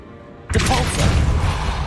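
The Confringo explosive spell goes off in Hogwarts Legacy as a sudden loud blast after a quiet start, followed by a sustained roaring, crackling burst.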